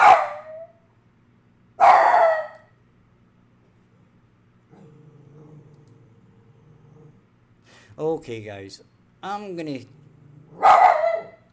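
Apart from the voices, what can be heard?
dog barking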